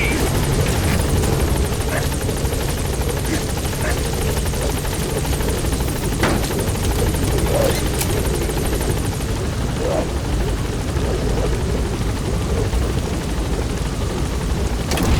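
A helicopter in the Metal Gear Solid V video game drones with a continuous, loud rotor thrum as it arrives at a landing zone. Faint scattered knocks sit under the steady engine roar.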